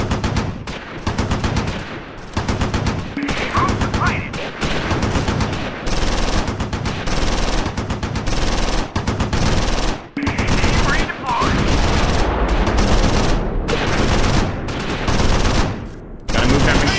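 Sustained gunfire in the Close Combat IV Battle of the Bulge winter attack game, with dense volleys of rifle and machine-gun shots and blasts rolling on loud and continuous throughout.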